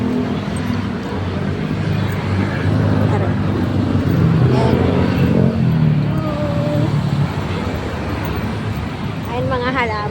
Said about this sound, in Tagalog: Yung mga sasakyan.